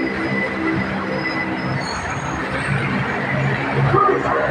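A BTS Skytrain on the Silom line pulls into the platform at Saphan Taksin station, a loud rumble with wheel squeal that builds toward the end, while someone talks over it.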